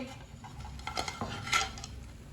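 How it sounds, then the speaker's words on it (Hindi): Cooked meat kebabs being set onto a plate, with a few light clinks and scrapes of utensil against dish, close and fairly quiet, no talking. "अब इसे प्लेट में डाल लेंगे"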